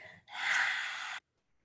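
A single forceful open-mouthed exhale during a yoga lion's-breath practice, a breathy rush lasting about a second after a short intake, then sudden quiet.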